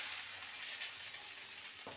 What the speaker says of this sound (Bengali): ক্যাপসিকাম আর টমেটো দিয়ে 2 মিনিট ভেজে